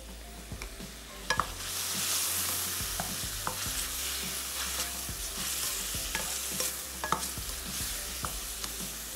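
Salt and black pepper stirred into food in a hot pan: a steady sizzle with scraping and clinking spoon strokes against the pan, moderately loud and without talk.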